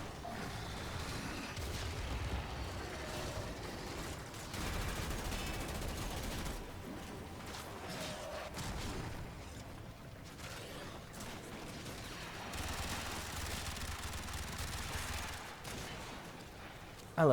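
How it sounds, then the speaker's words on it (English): SMG gunfire in the Warframe video game, fairly quiet rapid bursts of automatic fire in several stretches, with mechanical game effects between them. "I love these little SMGs."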